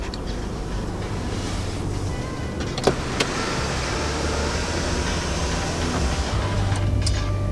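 A power sunshade or moonroof motor on a 2019 Audi A3 Sedan whirs steadily, with a couple of brief clicks midway, under constant wind and road noise.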